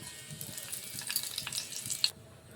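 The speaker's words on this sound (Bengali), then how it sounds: "এখানে আমরা শুকনো লঙ্কা আর জিরের ফোড়ন দিলাম।" Dry red chillies and cumin tempering sizzling in hot mustard oil, a close, steady crackling hiss with small pops that cuts off abruptly near the end, no talking.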